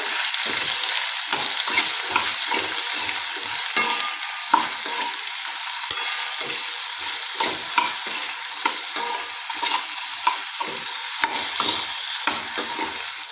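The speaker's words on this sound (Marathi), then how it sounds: "सर्व एकत्रित टाकायचे आहेत आपल्याला यांना चांगलं परतून घेऊया" Mixed vegetables stir-fried in a pan for an Indian mix veg dish, steady bright sizzling with frequent scraping stirs of a spoon throughout, close and continuous with no talk.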